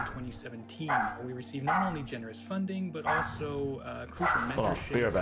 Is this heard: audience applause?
no